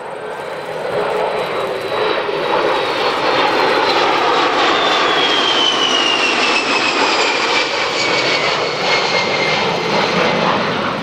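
Military jets of the US Air Force Heritage Flight, including an F-4, A-10 and F-15E, roar past at an air show, a loud steady engine rush with a falling whine that sustains throughout.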